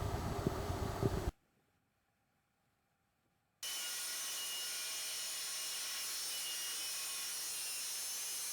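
A rapier shape being cut out by hand, likely with a hand saw, a short burst of rough rasping strokes, then a gap of near silence, then a steady even grinding noise to the end.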